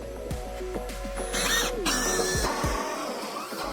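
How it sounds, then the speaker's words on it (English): A 54 mm hole saw in a power drill whirs steadily with a rising and falling tone, cutting a centre hole through a wood board, with brief mechanical clicks and rattles before and after. "The drilling on the center hole is with a circular drill 54 mm"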